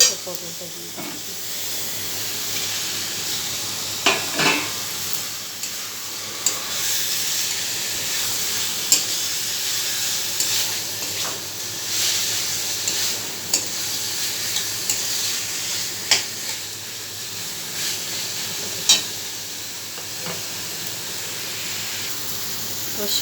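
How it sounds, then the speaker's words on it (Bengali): Pointed gourd frying in hot oil gives a steady, close sizzle and hiss throughout, broken by occasional sharp stirring scrapes and clinks of a spoon against the pan. "ভাজা ভাজা হয়েছে, পটলটা দিয়ে দিচ্ছি।"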